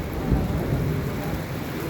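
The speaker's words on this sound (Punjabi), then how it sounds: "ਰੱਬ ਕਰੇ ਮੀਂਹ ਹਟ ਜਾਵੇ" Heavy rain and hail pour down with a deep rumble of thunder over a dairy farm, a dense, continuous wash of storm noise.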